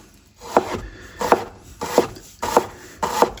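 A sharp knife finely slices an onion on a cutting board, five evenly spaced crisp chops in a steady rhythm, close and clear with no talk.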